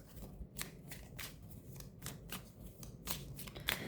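Tarot cards are shuffled by hand in quick, repeated riffling bursts, close and soft, with no one speaking.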